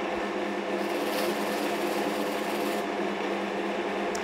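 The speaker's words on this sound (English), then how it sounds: "So we start the lathe off, and we just load the compound onto it." A lathe spins a cloth buffing wheel while a bar of polishing compound is pressed on, giving a steady, close whirring hum with a faint scraping texture and no talk.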